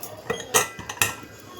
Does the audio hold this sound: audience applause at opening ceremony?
no